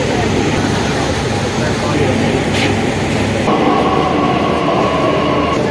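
A Delhi metro train at a station, a steady loud rumble of rail and wagon noise filling the whole stretch, with a shift in tone partway through as the train moves; people talk nearby.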